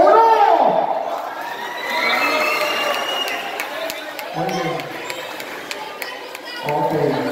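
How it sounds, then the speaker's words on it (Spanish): A rodeo crowd at a contest shouts and cheers for contestant number one, a loud burst of whoops and yells rising and falling over several seconds, with an announcer's voice cutting in near the end. "es el grito para la número uno."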